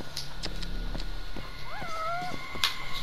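Amid a steady background hum and soft footstep-like thuds, a single short meow of a cat in the video game Judgment rises and falls clearly once, with a faint bump afterward.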